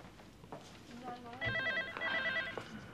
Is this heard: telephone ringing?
yes